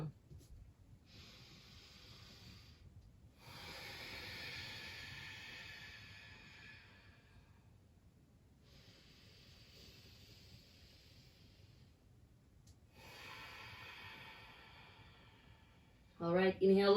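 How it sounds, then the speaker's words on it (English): Slow, deep breaths during a gentle yoga flow: long airy inhale and exhale swells, each several seconds, repeating in a steady rhythm with quiet gaps between, close and soft, ending in a brief louder sound. "Slow, deep breath."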